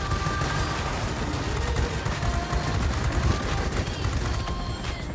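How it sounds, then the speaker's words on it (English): Continuous rattling machine gun fire from a fighter aircraft in World of Warplanes, a dense steady stream of rapid shots layered over engine drone, sustained loudly throughout. "Try not to overheat the gun."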